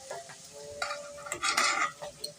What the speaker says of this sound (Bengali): এখন এগুলোও কিন্তু ভালো করে আমি ভেজে নিচ্ছি